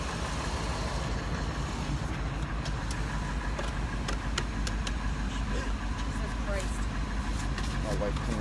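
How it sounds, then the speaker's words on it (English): Ford F150 pickup truck with a blown head gasket idling outdoors in the cold: a steady, close, low engine rumble that holds an even level throughout. "Here's the truck, it's running."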